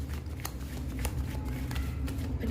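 Tarot cards are shuffled by hand in a quick, repeated riffle of papery flicks and slaps, close up and continuous, over a low background hum.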